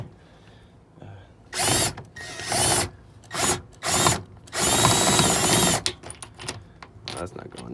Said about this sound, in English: So I grab my impact or my drill. Milwaukee.